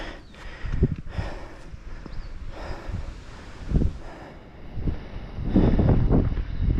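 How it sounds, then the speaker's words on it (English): Gusts of wind on an Appalachian Trail mountain path buffet the microphone in uneven rumbling bursts, loud and close, strongest near the end, with no talking. "Oh, that wind feels good."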